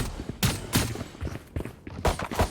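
Classic pistol fire in the Valorant video game: several sharp, punchy shots in quick irregular succession, close and fairly loud, with thuds between them.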